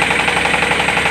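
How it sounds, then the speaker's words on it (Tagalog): A 24-horsepower engine drives a 15 kW AC synchronous generator, running with a loud, close, steady rattling throb and rapid knocking pulses, no voices. "bali itong makina natin, 24 horsepower to, makina"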